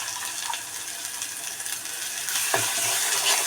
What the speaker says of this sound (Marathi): तो चांगला याचा परतून घेणार आहोत